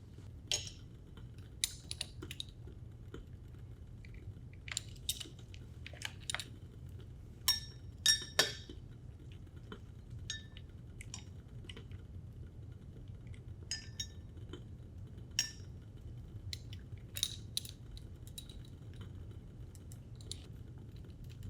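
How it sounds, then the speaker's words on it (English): Glass test tubes clinking as Benedict's reagent is added in a lab, with sparse light taps and chinks scattered over a faint steady hum, close and quiet. "I'm going to add 3 milliliters of Benedict's reagent to each test tube."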